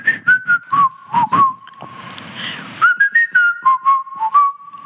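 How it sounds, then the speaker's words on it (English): A person whistles the theme song from the Soviet cartoon Nu, pogodi!, a clear, close melody of short rhythmic notes and gliding pitches, briefly broken by a noisy rustle midway before the tune resumes. "I heard you're a good whistler. Can you whistle some melody?"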